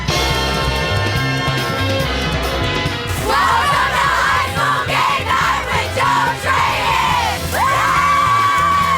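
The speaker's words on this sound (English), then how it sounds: "That's the Crandall Cheer Squad." A high school cheer squad at a Friday night football game in North Texas yells and whoops loudly in unison, a sustained crowd-like chorus of voices over thumping music.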